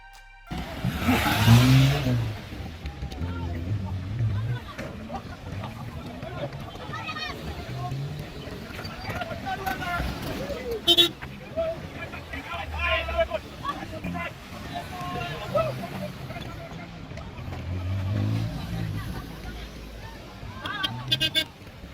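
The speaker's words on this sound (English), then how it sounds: "we celebrated by driving around the crater" A rally car engine on the 2019 Mongol Rally hums and revs as it drives around a crater in a remote area, heard steadily underneath continuous spoken narration.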